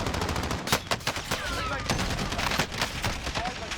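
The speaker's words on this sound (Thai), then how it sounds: "มีคนยิง มีคนยิงเพื่อนเรา" Rapid gunfire crackles in Call of Duty Warzone, with bursts of automatic fire and sharp shots clustered over a few seconds, fairly close, under a busy battle background.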